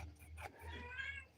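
A moggy cat lets out a close, loud meow that starts with a short yelp and then becomes a stretched, wavering wail, with nothing else heard.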